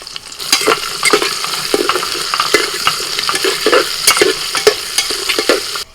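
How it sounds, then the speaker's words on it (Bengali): Onion, garlic and three green chilies frying in a pan, with a steady sizzle and repeated scraping stirs close by, no talking. "এবার দিয়ে দিচ্ছি পেঁয়াজ রসুন কুয়া তিনটে কাঁচা লঙ্কা"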